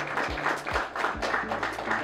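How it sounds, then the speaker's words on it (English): A school audience applauds the girls' golf team for a third straight state championship, a short burst of clapping mixed with low thumping booms and a steady tonal hum beneath. "So let's give a round of applause for that."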